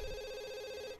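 A telephone rings once in The Sims 2, a short, bright electronic trill that stops abruptly, alone and close.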